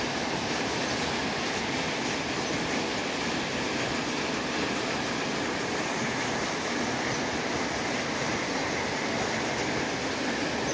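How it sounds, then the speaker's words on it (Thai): Early-morning rain falls steadily in a rural Thai village setting, a continuous dense hiss of drops with an even loudness and no voices, close and unbroken from start to end. "ทีนี้ก็เก็บบรรยากาศฝนตก"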